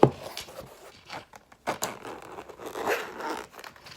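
Packaging of budget smart glasses is torn open, with quick rustling, ripping and scraping of cardboard and plastic in a few close, uneven bursts.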